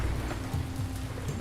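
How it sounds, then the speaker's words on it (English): Heavy rain falls in a city-building game set in an ancient city, a steady, dense hiss of drops that holds at an even level for the whole moment, with soft low rumbling beneath and no voices. "It's raining now, so it's kind of heavy rain also."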